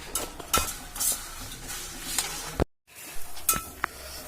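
Grated coconut is roasted and stirred in a pan, with a spoon scraping and clinking against the metal in irregular strokes over a soft sizzle. A brief moment of silence cuts in partway through.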